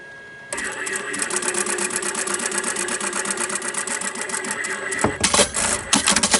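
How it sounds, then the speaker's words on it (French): A sewing machine stitches patchwork fabric, a rapid even mechanical chatter that starts after a brief quiet moment and runs loud and close, ending in a few irregular knocks. "Eh bien, je vais coudre cette partie-ci."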